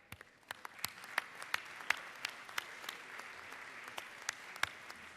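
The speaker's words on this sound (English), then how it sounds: "recognize them, and give them an applause" Applause in the Georgia House of Representatives chamber: a sparse scattering of individual hand claps at a moderate distance, irregular and fairly faint, continuing steadily throughout.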